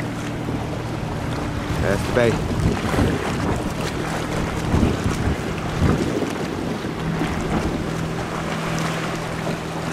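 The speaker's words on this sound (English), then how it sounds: "Boat pulling out." Boat engine droning as the vessel pulls out into a bay off Crete, Greece, with steady wind buffeting the microphone and water washing alongside; a person speaks briefly over the continuous rumble.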